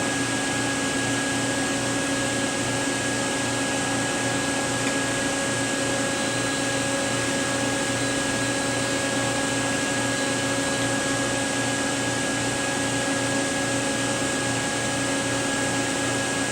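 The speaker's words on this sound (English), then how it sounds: "at that point the ball lock vacuum will be turned on" A vacuum pump for the ball lock vacuum on an OAI 5008DF mask aligner runs with a steady, loud mechanical drone and constant whine, unchanging throughout, with no talking.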